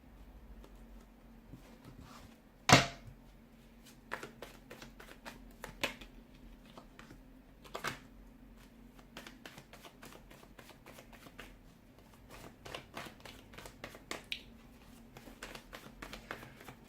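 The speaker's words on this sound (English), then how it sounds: "it just feels like the cards are flying out." Tarot cards riffled and shuffled by hand in a quiet room, giving a sharp snap near the start followed by a steady run of soft, rapid flicks and taps.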